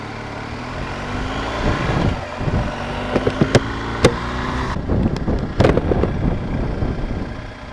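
A 2019 BMW GS Adventure motorcycle engine runs steadily while riding, a continuous mid-pitched drone under wind noise, with a few sharp clicks and knocks along the way.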